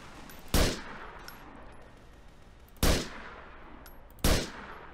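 Three sharp gunshots in the video game GTA IV ring out, spaced unevenly, each with a short ringing decay over a quiet background hum.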